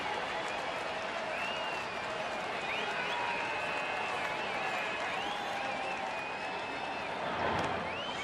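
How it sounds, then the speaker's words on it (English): Baseball stadium crowd at a Houston versus Milwaukee game in the bottom of the sixth, a steady wash of cheering and murmur with whistles and calls rising over it, swelling slightly near the end. "And this crowd trying to get into it."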